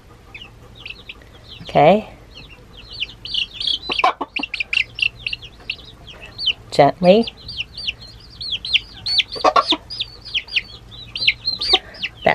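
Silkie chickens cluck and chirp steadily in a busy flock, with a few louder squawks standing out close by while a person speaks briefly over them.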